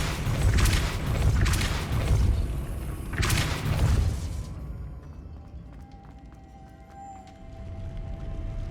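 A Depulso spell cast in Hogwarts Legacy gives two loud bursting whooshes with heavy low rumble, each about a second long, followed by a quieter stretch with faint ringing tones and small clatters.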